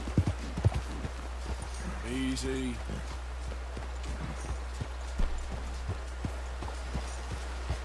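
Horse hooves clip-clop at a steady walking pace in the video game Red Dead Redemption 2, with evenly spaced, fairly close footfalls over a low ambient bed and a voice speaking briefly.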